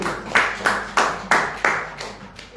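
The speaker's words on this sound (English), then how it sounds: "One more round of applause for her." Slow, even clapping at a book launch at a bookfair: about seven distinct claps in steady rhythm, fairly close and moderately loud, with no talking over them.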